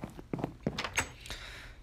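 A wooden door in Minecraft PE is opened and shut over and over, a fast string of short hollow clunks, close and fairly quiet, with no voices.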